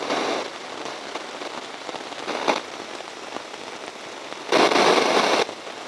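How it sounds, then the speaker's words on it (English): Rain falls steadily at a mountain lake campsite, a continuous close patter with two brief heavier bursts of drumming on a surface, no voices. "Looks like we get to just listen to the rain."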